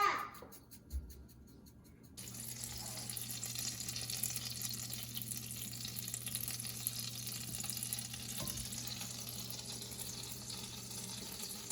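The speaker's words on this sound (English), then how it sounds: "So this butter's starting to get hot" Butter heating in a pan, a soft, steady sizzle that starts after a brief rustle and carries on evenly at low volume, with no talking over it.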